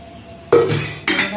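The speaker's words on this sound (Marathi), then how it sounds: "आता मी कढई ठेवते, तळून दाखवते तुम्हाला" A kadhai (wok) is set down on a home stove for frying sago vadas, then oil is poured in: a sharp metallic clunk followed by a second clatter and a brief pouring rush, close and fairly loud, with no talking.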